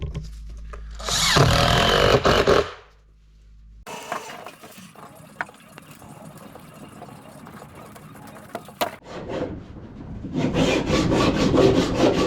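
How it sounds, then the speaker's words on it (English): Sanding on the wooden gunwales of a canoe: a loud rasping burst, a pause, then quieter steady scraping, ending with another strong stretch of abrasive rubbing, close by. "So I've been sanding the gunnels today"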